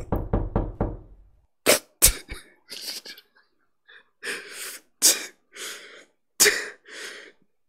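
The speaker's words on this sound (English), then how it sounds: "if anybody heard a knocking sound, congratulations." A knocking Easter egg from the Metal Gear Solid video game gives a quick run of several close, sharp knocks, followed by sneeze-like and cough-like bursts and breaths spaced irregularly, with no talk.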